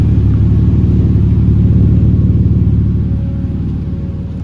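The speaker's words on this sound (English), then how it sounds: "That was like 1400 just idling." A Barra-engined Patrol fitted with a bigger turbo idles steadily with a deep, continuous rumble, loud and close, easing slightly quieter toward the end; no one speaks.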